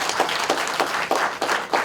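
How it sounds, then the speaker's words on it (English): People at a letter-of-intent signing give a final round of applause, steady many-handed clapping with a loose rhythmic pulse, fairly close and filling the room without any speech. "let's give Taylor one last round of applause"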